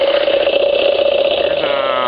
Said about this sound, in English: Engine's running perfectly.